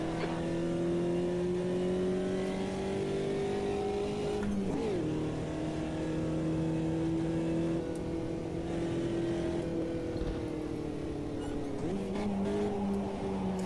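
A race car engine in a racing video game drones steadily, its pitch rising and falling with shifts and throttle changes, moderately quiet and continuous, with brief dips where the revs drop before climbing again.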